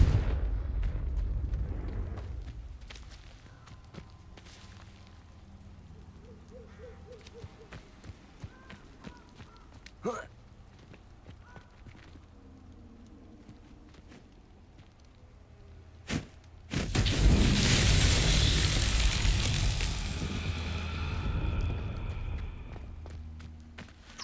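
Confringo fire spell blasts in Hogwarts Legacy: scattered sharp cracks and thuds over quiet ambience, then a loud sustained roaring burst near the end, with light footsteps between.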